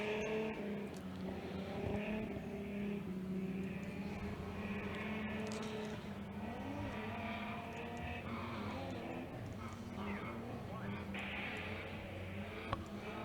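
J1 racing karts accelerate on a short fairground course, their engines blending into a continuous mid-distance buzzing drone of rising and shifting pitches, with a faint voice underneath.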